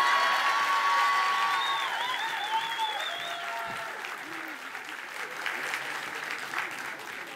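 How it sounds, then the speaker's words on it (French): Studio audience applauding on a comedy show, a broad burst of clapping that gradually tapers off while voices speak over it. "Le loup est viré et le public l'applaudit."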